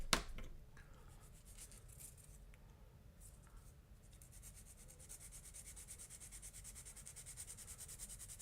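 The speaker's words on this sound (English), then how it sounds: "Just a little bit of sanding" Light sanding of a small part for a B-24D scale model kit, a faint, continuous scratchy rubbing that grows steadier and more rhythmic, close up and quiet.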